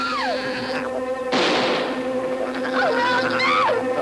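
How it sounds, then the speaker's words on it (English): Giant wasp in a dinosaur film, a loud, close insect buzz with pitch sweeps that rise and fall, broken by a burst of noisy rushing sound midway, then the buzzing resumes. "I haven't seen a wasp that big since the Nixon years."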